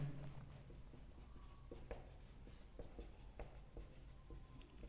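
Pen or marker writing by hand during a physics lecture on straight-line motion, a soft scratchy stream of short strokes and taps at close range, fairly quiet and with no talking.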